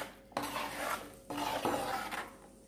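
Semolina mixture stirred with a spoon in a pot, two bursts of scraping and clinking a second apart, fairly faint, with a light sizzle underneath and no talk.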